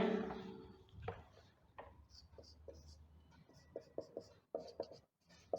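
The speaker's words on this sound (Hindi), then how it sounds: "तो इसको लिख लेते हैं यहां पे" Chalk or a marker writes on a board during a physics class, giving a series of short, faint, close strokes and taps in an irregular rhythm after a brief voice at the start.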